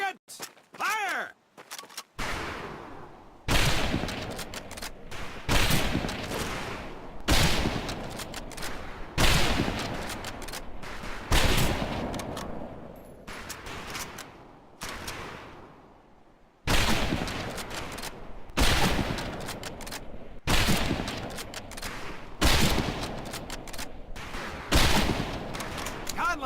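Rifle shots ring out on a firing range in PLAYERUNKNOWN'S BATTLEGROUNDS, with loud, sharp reports repeating every second or two and each echoing into a brief decaying tail across the whole stretch.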